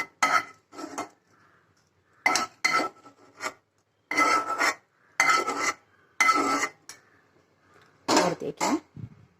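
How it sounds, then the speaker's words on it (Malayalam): Carrot laddu mixture scraped and spooned from a pan into another vessel, with bursts of rasping metal-on-metal scraping separated by short pauses, close and moderately loud. "ഓക്കെ, നമുക്ക് വേറൊരു പാത്രത്തിലേക്ക് പകർത്തി വയ്ക്കാം."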